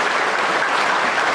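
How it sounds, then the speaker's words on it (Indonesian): Congregation applause at an annual prayer service at Mount Murud, Ba'kelalan, a steady wash of many hands clapping together, fairly loud and even for a brief stretch. "Beri tepukan untuk Tuhan."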